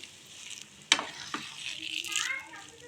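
Liquid is poured onto roasted vermicelli in a hot pan and stirred for semiya kesari. It starts with a sudden sharp hiss, then comes a close, steady sizzle with stirring scrapes and bubbling.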